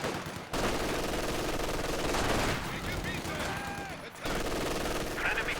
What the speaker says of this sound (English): Cherry MG sets up